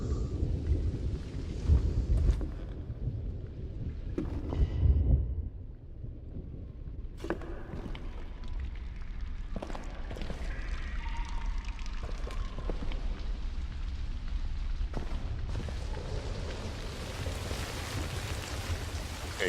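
Steady rain patters with occasional low rumbles of thunder in a stormy outdoor scene of the VR game The Gallery, with no talking over it.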